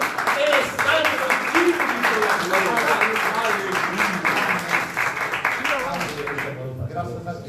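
Congregation in a Baptist church applauding steadily for several seconds while a voice speaks over the clapping, the sound fading out abruptly at the end.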